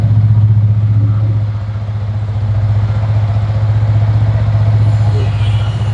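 A TVS Apache RTR motorcycle engine idles loudly and close, with a steady low throbbing rumble that holds throughout.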